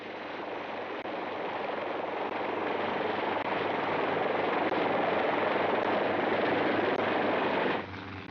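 A helicopter carrying a camera under its fuselage flies over a rocky island, a continuous loud rotor throb that swells slightly and holds steady before cutting down sharply near the end, with no talk.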